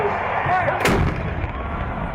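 A ceremonial cannon on a university campus fires once in a loud, booming blast with a sharp crack, set against constant outdoor background noise and crowd murmur.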